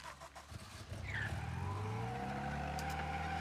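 A stolen car in the video game Mafia: Definitive Edition drives off, its engine rising into a steady loud drone with a brief tire squeal near the start.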